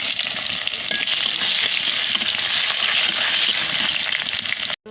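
A dried red chilli, two bay leaves, a pinch of spice and chopped onion fry in hot oil with a loud, steady, close sizzle that cuts off abruptly at the end.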